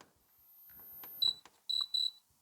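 Three short, sharp electronic beeps sound from a Noisy Cricket toy prank circuit board, the first single and the last two in quick succession, thin and piercing against faint background handling noise.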